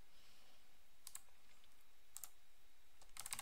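Short bursts of computer keyboard typing while entering commands to launch Doom 2, faint clusters of quick clicks spaced out over a quiet background, the last burst densest.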